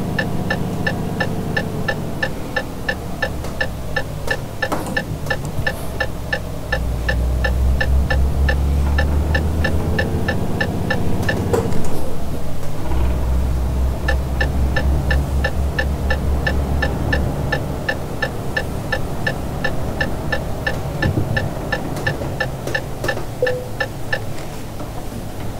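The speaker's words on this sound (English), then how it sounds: "Love all those truck sounds." Truck engine in Euro Truck Simulator 2 multiplayer, a steady low droning hum that thickens into a deeper throb for stretches, with a regular ticking running over it, loud and continuous with no talking.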